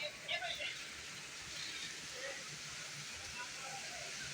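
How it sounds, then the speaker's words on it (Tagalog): Moderate rain falling in Intramuros, a faint, steady, even hiss throughout with a few brief brighter sounds near the start. "Katamtaman lang ang ulan na ito ngayon"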